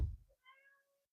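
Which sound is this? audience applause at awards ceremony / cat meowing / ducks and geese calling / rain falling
cat meowing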